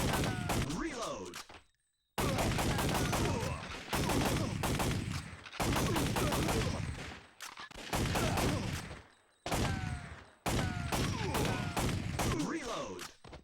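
Rapid bursts of gunfire from the PlayStation light-gun arcade shooter Time Crisis, loud and dense, broken by brief silent gaps between volleys, with game voices mixed in at times.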